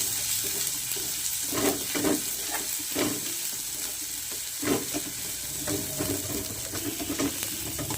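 Ginger paste sizzles steadily in hot mustard oil in a pan, with repeated stirring scrapes over a continuous frying hiss, close and fairly loud, with no talking.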